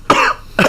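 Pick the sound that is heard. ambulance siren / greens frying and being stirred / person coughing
person coughing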